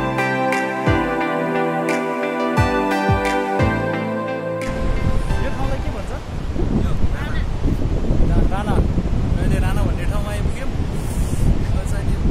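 After a brief musical opening, wind roars and buffets the microphone on the Manaslu Circuit mountain trek near the high Larke La pass, a loud, constant rushing noise with people talking beneath it.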